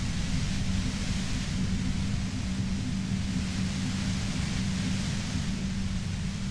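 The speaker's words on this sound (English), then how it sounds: "You hear through the white noise. It's especially bad suddenly." Steady broadband white-noise static with a low hum beneath it, part of the audio in the video game Disco Elysium, running loud and unchanging throughout with no other sounds.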